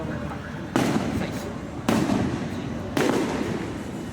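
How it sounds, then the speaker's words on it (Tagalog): Three loud Christmas fireworks bursts go off at roughly one-second intervals, each a sharp boom with crackling decay, over a busy outdoor background in the Philippines. "Matagal pa yung fireworks natin"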